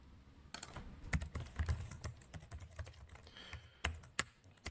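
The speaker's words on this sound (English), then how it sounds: "I'll type it into cell A1." Someone types on a computer keyboard while entering a formula into a spreadsheet, producing quiet, close, irregular key clicks in short runs with uneven gaps.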